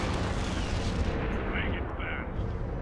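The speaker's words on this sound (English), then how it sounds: "So my two capital ships are bombing this." Capital ships bombarding a planet in Sins of a Solar Empire: Rebellion produce a steady, heavy rumble of artillery-like blasts, dense and continuous, with a voice speaking over the barrage.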